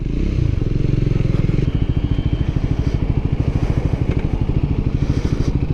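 A Triumph Scrambler 400 X motorcycle, ridden by its new owner on a first ride, accelerates from a low idle into a loud, close, rapid single-cylinder engine pulse that stays steady and throbbing.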